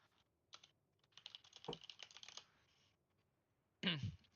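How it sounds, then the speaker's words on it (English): A computer keyboard is typed on up close in irregular clicky bursts, with a dense run of keystrokes in the middle and a brief voice near the end. "the rest of the party can keep talking while I'm typing this out"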